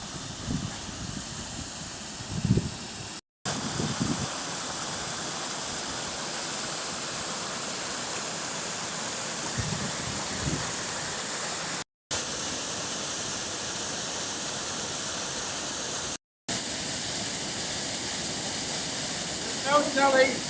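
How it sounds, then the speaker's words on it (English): Waterfall pouring in front of an old stone mill in a wooded valley, a steady broadband roar of rushing water filling the scene continuously, with a few brief low thumps and a voice in the background. "look at that, look at the waterfall"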